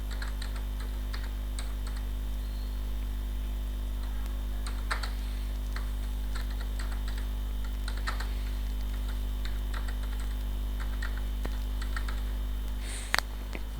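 Someone types on a computer keyboard while filling in an online form, producing irregular bursts of quick light key clicks over a constant low electrical hum, with no speech.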